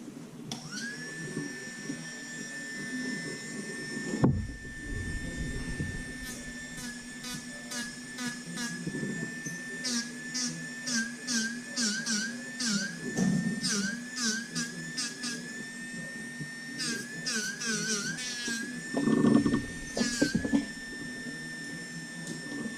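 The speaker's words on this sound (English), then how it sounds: "Then I'm going to take it over to my water-cooled rock polisher or gem polisher, and we're going to smooth this all off." A water-cooled rock and gem polisher smooths a repaired inlay ring, giving a steady motor whine with a sustained tone and short bursts of grinding contact as the piece is pressed against the wheel.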